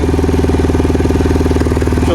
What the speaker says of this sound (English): she'll sit here and idle on choke